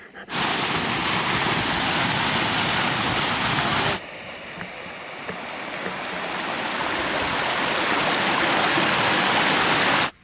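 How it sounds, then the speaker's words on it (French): Waterfall at a water hole on a farm in Táchira, Venezuela: a loud, continuous broadband rush of falling water that briefly drops in level, then swells back to full roar. "par là, il y a une cascade"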